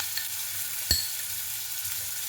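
Flat beans sizzle steadily in a pan as spices go in, with a single sharp clink of a stirring utensil against the pan partway through the constant frying hiss.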